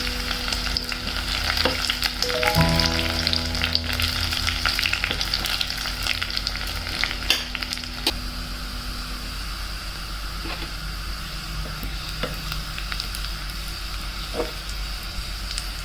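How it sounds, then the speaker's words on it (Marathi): Garlic frying in hot oil on low heat until browned, a continuous dense sizzle with stirring and scraping clatter early on, followed by a few sharp clicks and knocks, no talking. "आता छान तो ब्राऊन होईपर्यंत त्याला व्यवस्थित तळून घ्यायचंय."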